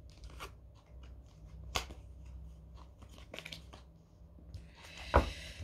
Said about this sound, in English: I think that was my shuffling